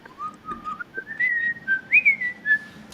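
A person whistles a tune up close, clear sliding notes in short phrases that climb toward the end, alone without talk.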